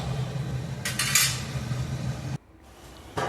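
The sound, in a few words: stirring sambar in a cooking pot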